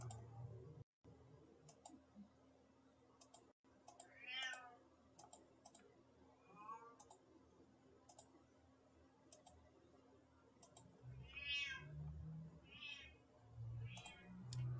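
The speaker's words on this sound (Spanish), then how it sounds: "No sé por qué mi gato empieza a maullar de esa manera" A cat meows repeatedly in long, drawn-out wails, the cries coming in several separate bursts over a steady faint ticking, moderately close but fairly quiet overall.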